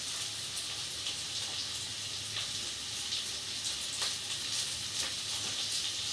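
Curry leaves and turmeric sizzle steadily in hot oil, a soft continuous hiss with faint crackles and no talk.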